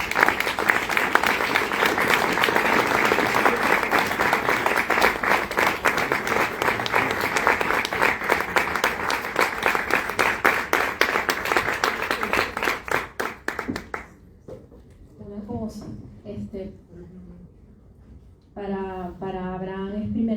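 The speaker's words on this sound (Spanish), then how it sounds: "Por eso les pido un gran aplauso" Audience applause after an emotional testimony about torture in Venezuela, a dense, steady roar of many clapping hands for about fourteen seconds that fades out, followed by quieter room sound and a voice speaking.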